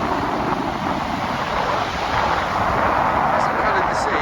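Strong south-southwesterly wind and surf pounding the shingle of Chesil Beach at Ferrybridge in the evening, a loud, continuous roar of wind and breaking waves with constant microphone buffeting.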